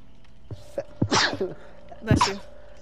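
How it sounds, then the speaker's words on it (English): A person sneezes twice in quick succession, the two bursts loud and close, with faint background sounds between them. "Now you're making me sneeze, bro."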